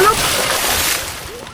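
A wet splash with sloshing water at the Majaland amusement park, fairly loud and continuous for a moment, with faint voices in the background.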